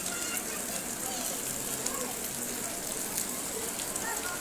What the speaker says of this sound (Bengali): দেখতে পাচ্ছেন অনেক বৃষ্টি।